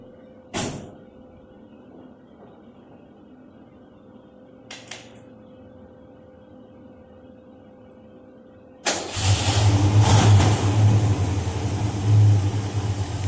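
A 1985 Mustang GT with a newly fitted dual exhaust sits quiet apart from a couple of clanks, then fires up abruptly with a loud, rough burst and settles into a heavy, throbbing idle with slight revving close by.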